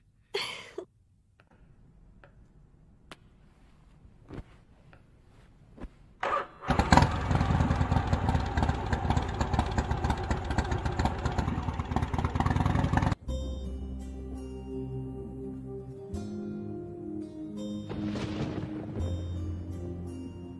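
A motorcycle engine cranks and catches after a few quiet clicks, then runs loud and rough with revving, cuts off abruptly, and gives way to a different tonal hum, with no talk.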